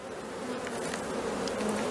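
Honey bees buzz steadily on frames of a hive being dusted with powdered sugar against varroa mites, a dense, continuous close drone that stays even throughout with no talk.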